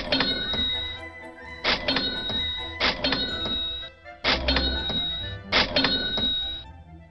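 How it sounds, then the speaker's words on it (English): A cash register rings repeatedly, five or six times in a row, each a clanking drawer thunk followed by a bright bell ding, loud and close. "Each time you hear a cash register"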